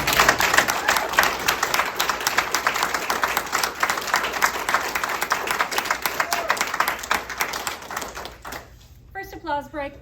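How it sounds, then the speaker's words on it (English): An audience applauds during an International Women's Day speech, close, dense clapping that runs steadily for about eight seconds before dropping off abruptly, followed by a brief stretch of speaking. "applause break."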